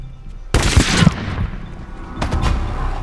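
A film scene gunshot booms loudly with a long rumbling tail, followed by a second sharp shot and lingering reverberation, with no talking.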